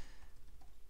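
Quiet, rapid keystrokes on a computer keyboard tap in an even rhythm, faint and close, with no one speaking.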